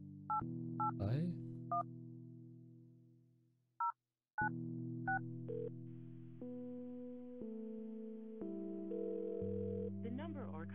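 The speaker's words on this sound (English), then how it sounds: "Kann man vielleicht zufällig eine Nummer wählen?" Telephone keypad dialing tones from the Kathy Rain detective game: several short dual-tone beeps in sequence, then a brief gap and steady held tones, loud and clear with no talk over them.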